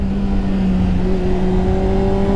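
A Honda Hornet 600 four-cylinder motorcycle engine holds steady revs in second gear, a loud, close, continuous mechanical drone with a sustained tonal whine and no pauses.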